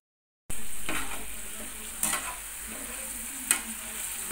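Pointed gourd frying in oil with turmeric, salt and spices for a Bengali tel potol dish sets off a steady sizzle after a short silence, with a few crisp utensil scrapes against the pan and no talking.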